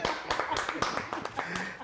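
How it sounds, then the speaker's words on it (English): Audience clapping at a Xhosa-language television gathering, with distinct sharp hand claps sounding moderately close and fairly sparse, mixed with voices murmuring and talking underneath. "And let's clap hands again."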